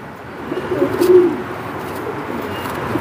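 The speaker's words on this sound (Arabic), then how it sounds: "بص معايا فرد الحمام اهو" Domestic pigeon in a loft cooing, with a low, throaty coo rising and falling near the middle of the moment over a steady background hum.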